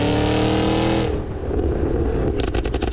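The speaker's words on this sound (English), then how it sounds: "It's unburnt fuel that makes its way into the exhaust and ignites." A 2026 Cadillac Escalade-V, a 3¼-ton SUV in V mode, roars loudly up close with a sustained engine drone, then a rapid burst of crackling exhaust pops from unburnt fuel igniting near the end.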